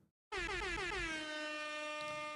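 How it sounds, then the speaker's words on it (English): A single long, loud truck air horn blast with a rising pitch at the start, then a steady, blaring tone that holds for about two seconds. "They finally put the air horn on in this thing."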